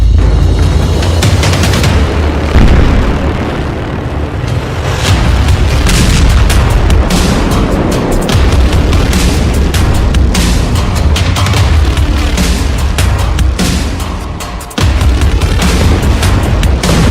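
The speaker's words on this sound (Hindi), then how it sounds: "अब रफा में 2-2 हजार किलो के बम गिराए जा रहे हैं।" Heavy booms from 2,000-kilogram bombs dropped on Rafah, a continuous loud barrage of deep blasts and rumbling bursts with no talk, with a sharp hit near the end.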